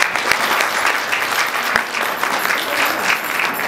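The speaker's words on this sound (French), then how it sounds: "Je vous demande d'applaudir, s'il vous plaît" Audience applause for a panelist at a FESTIGORA 2021 panel session, loud, steady clapping from a full room that holds evenly throughout.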